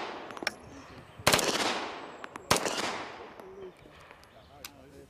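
A historic machine gun at a live-fire demonstration, heard as two sharp, loud shots spaced about a second apart, each ringing out with a long decaying echo, over faint background murmur rather than a sustained full-auto burst.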